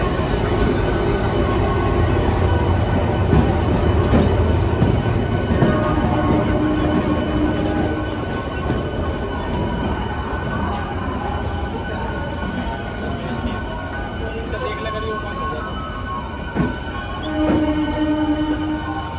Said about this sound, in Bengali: ট্রেন এখন হাওড়া স্টেশনে ঢুকছে